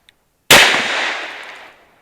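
A single sharp gunshot from a Ruger GP100 .357 Magnum revolver, loud and close, cracking out suddenly and then ringing off in a long fading tail over about a second.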